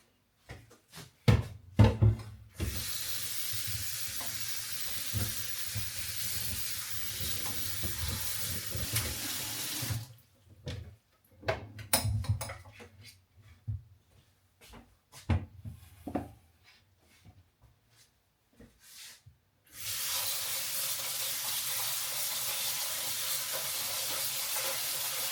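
Running water from a kitchen tap splashes over cut vegetables being washed in a sink, a steady broadband rush in two long stretches broken by quieter gaps of handling and rinsing clatter.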